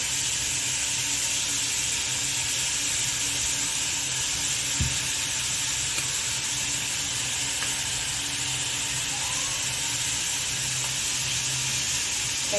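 Garlic and onion sauté in a pan with a loud, even, unbroken sizzle close by, with a faint knock or two and no voices.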